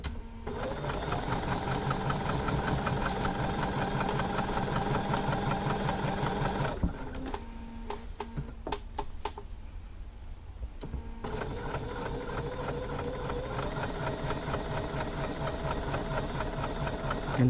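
A domestic sewing machine stitches a quarter-inch seam, running in a steady fast mechanical rattle, pausing briefly midway with a few clicks and adjustments, then resuming at the same even pace, close and alone.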